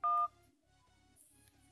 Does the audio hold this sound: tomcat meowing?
no